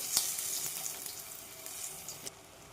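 Coriander vadi fried in hot oil in a home kitchen gives a soft, steady sizzle with faint crackles and a couple of sharp pops, no talking.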